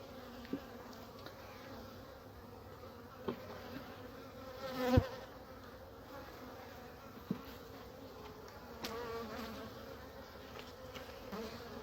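Honey bees swarm around an opened beehive, their dense buzzing drone steady and close, with a few louder passes and faint knocks of hive work.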